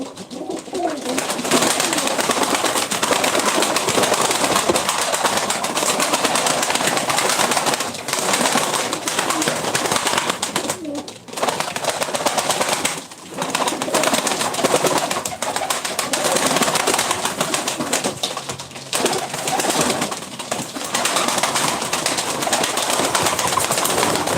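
Pigeons, Ankara tumbler pigeons, coo steadily and continuously at close range, a dense, unbroken layer of soft cooing with occasional brief dips, and no one speaking.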